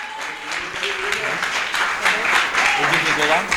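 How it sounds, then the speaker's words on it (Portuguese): A church congregation claps along, mixed with voices, as loud clapping and shouting rise together over a few seconds. "Bata a palma e receba o servo de Deus com as palmas."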